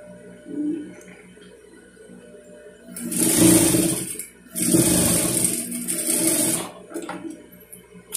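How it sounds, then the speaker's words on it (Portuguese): Sewing machine stitching a fabric patchwork wallet, two loud close bursts of steady mechanical whirring separated by a brief pause, with quieter handling sounds before and after and no talking. "Vou até costurar aqui de uma vez para vocês verem."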